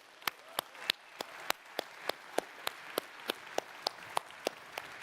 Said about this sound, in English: Big round of applause, Barcelona and friends of Xiaomi